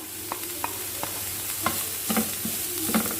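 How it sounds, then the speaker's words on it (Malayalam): Chopped beetroot is stirred and sautéed in a pan for beetroot pachadi, giving a soft steady sizzle broken by rhythmic scraping taps of a spoon against the pan. "ഒരു ബീറ്റ്റൂട്ട് നല്ലപോലെ ചോപ്പ് ചെയ്ത് എടുത്തിട്ടുണ്ട്, അതുകൂടെ അതിലേക്ക് ചേർത്ത് കൊടുക്കാം."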